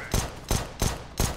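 Four evenly spaced gunshots ring out in CS:GO as a player pre-fires around corners on B site, each crack sharp, loud and close with a short decay.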